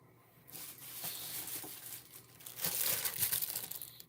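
A package being unwrapped, its plastic packaging crinkling and rustling up close in irregular bursts that swell louder toward the end, with no voices.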